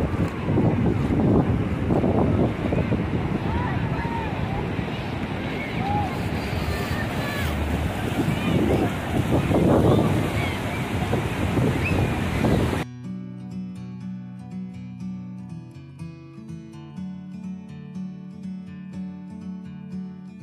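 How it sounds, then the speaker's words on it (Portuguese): Strong, rough ocean surf pounds Ubatuba beach on a windy day, with a steady loud roar and wind buffeting the microphone for about thirteen seconds before music replaces it. "Hoje o mar, gente, tá muito agitado, viu? Nós fomos lá, mas, nossa, a onda tá muito forte."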